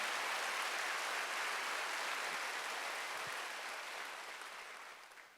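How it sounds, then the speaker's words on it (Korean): A Sunday worship congregation at a Korean church applauds in a steady, dense wash of clapping that slowly fades toward the end. "박수 좀 세게 쳐봐요"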